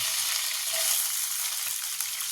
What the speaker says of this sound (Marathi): कढीपत्ता टाकून होऊ द्यायचा त्याला कडकड होतो